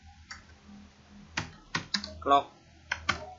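Keys clattering on a computer keyboard while a router configuration command is entered, a handful of sharp separate keystrokes with pauses between them, close and fairly quiet.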